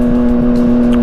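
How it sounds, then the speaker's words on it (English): A Yamaha MT-09 motorcycle with an aftermarket exhaust runs close by, giving a loud, steady, deep engine drone with a strong hum that holds level for the whole second rather than rising in a rev. "I just rev that engine and they know I'm coming."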